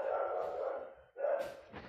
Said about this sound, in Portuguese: esse cachorro não para de gritar